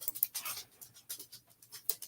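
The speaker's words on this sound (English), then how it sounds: "My dog's coming in here." A dog close by gives short, breathy panting bursts mixed with soft whimpering, several quick rhythmic puffs over two seconds, fairly quiet and alone.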